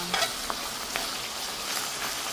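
Tapa frying in oil in a pot gives a continuous close sizzle, with a few soft stirring scrapes and pops over the steady hiss.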